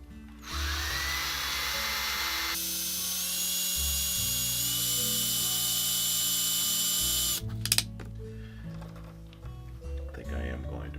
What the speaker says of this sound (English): So let's go ahead and drill and tap these.